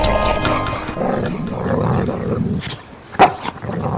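A dog barks nearby a few times over steady background noise, with one sharper, louder bark near the end.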